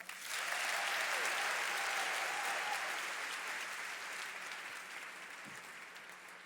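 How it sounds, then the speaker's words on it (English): A fashion show audience breaks into sustained applause that swells quickly, holds as dense clapping, then slowly thins and fades. "Let's give a round of applause for the second half of our show."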